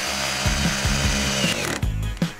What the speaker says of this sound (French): Dans ce cas, on utilise ce superbe outil, un renvoi d'angle.